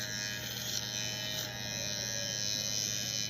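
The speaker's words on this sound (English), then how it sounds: "I'm lifting my clipper a little." An electric clipper buzzes steadily and close up while trimming a dog's head, a continuous even drone with slight shifts in tone as the blade moves.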